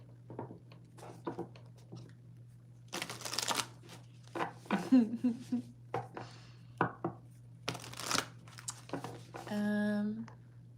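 A deck of cards is shuffled close by, with crisp riffling bursts and soft slaps mixed with scattered handling noises over a low hum, and a voice speaks briefly.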